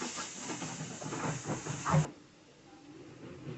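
Two large finely chopped onions frying in hot oil give a loud, close, steady hiss for about two seconds before it abruptly drops to a quieter sizzle.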